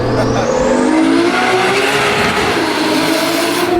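A Nissan S13 with a 1JZ engine revs hard and accelerates close by, its pitch climbing steadily through a gear, loud with tire and road roar underneath.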